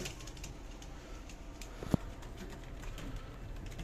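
Soft cooing of a pair of Teddy pigeons murmurs in a quiet space, with a single sharp click partway through and faint background noise.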